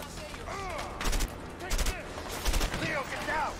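Gunfire from the video game A Way Out, a few short bursts of shots cutting through a game soundtrack, with a voice talking over parts of it.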